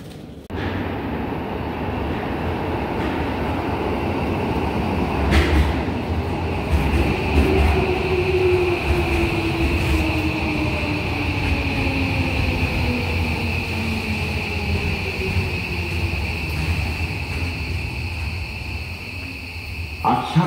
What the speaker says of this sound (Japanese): The local train bound for 北越谷 is arriving at track 2.